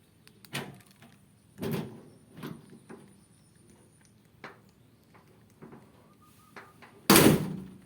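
A remote central locking kit fitted to the tailgate of a 2020–2022 Isuzu pickup clicks and thunks several times as it locks and unlocks, with sharp mechanical actuator knocks spaced a second or so apart and one louder clunk near the end.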